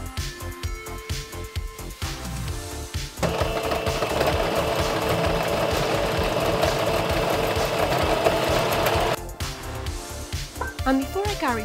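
Home sewing machine joining the back pieces of a cosplay dress, a close rhythmic mechanical whir that runs steadily for several seconds between short stop-start bursts, with music playing underneath.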